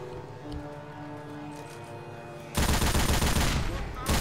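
Mounted gun firing in the video game Left 4 Dead 2, a sudden loud sustained burst of rapid automatic fire cutting in over quieter background music and continuing to the end.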